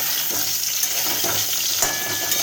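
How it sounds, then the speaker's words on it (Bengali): Steady, crackling sizzle of potatoes and cauliflower frying in hot oil in a kadai, with a few soft scraping stirs breaking through the continuous hiss. "কড়াইতে তেল গরম করে সুন্দর করে আলু আর ফুলকপিটাকে ভেজে নেব"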